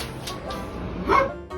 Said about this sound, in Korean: 찜이 얘한테 으르렁거리는 거야?